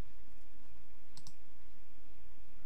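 A computer mouse clicks twice in quick succession, sharp and close, over a steady low hum of room noise.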